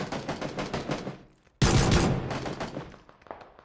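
Pistol fire in PUBG, a quick string of close, sharp shots followed by one louder burst and a few scattered trailing pops.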